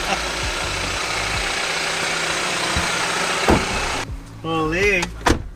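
A van's engine idles and runs steadily up close with broadband road-vehicle noise. Near the end a door or window sound is heard and a voice speaks over it.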